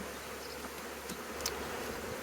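A dense, steady buzzing of a honeybee swarm hums continuously at moderate volume, with no voices, a close and constant drone.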